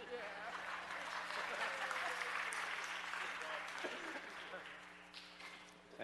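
Attendees at a city planning and land use committee meeting applaud in a sustained, dense burst of clapping that swells, then gradually fades over several seconds.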